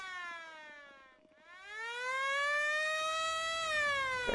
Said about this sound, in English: Why don't we take down that siren?